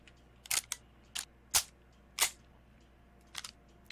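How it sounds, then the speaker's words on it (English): A gun is reloaded in the zombie survival game 7 Days to Die, heard as a string of about seven crisp mechanical clicks and snaps, sharp and close, spaced irregularly, with no talk. "let's reload"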